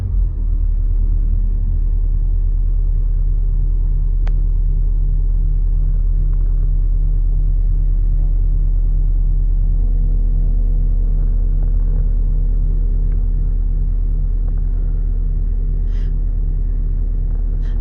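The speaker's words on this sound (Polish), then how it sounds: "A teraz posłuchajmy, jak brzmi ten samochód." A Mercedes-Benz G-Class G 400d diesel idles steadily close by, giving a deep, constant low rumble with a faint mechanical hum and no speech.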